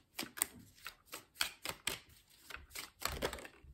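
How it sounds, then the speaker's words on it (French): Tarot cards being shuffled, a rapid series of sharp riffling bursts and soft slaps repeating unevenly, close and fairly crisp with no talking. "On mélange. Toujours en 5 cartes."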